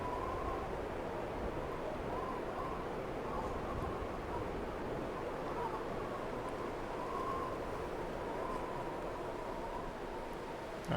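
Steady wind blowing in The Long Dark on Timberwolf Mountain, a constant low rushing noise with faint whistling gusts, unbroken and without talk throughout.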